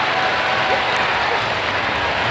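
A crowd at a dog agility show roars and cheers in a dense, loud, continuous wash of noise that fills the whole moment.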